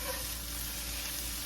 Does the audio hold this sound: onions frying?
yes